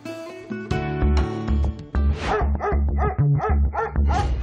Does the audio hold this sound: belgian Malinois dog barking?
yes